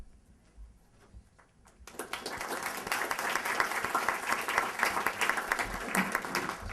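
After a quiet murmur, a large audience at a college honors convocation breaks into sustained applause that starts suddenly and continues steadily, loud and dense.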